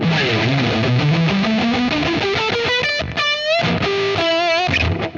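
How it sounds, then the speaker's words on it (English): Electric guitar with distortion at maximum plays a rising run of notes, then sustained bending notes ring out loud and close, with no voices. "Now I put on the distortion on max."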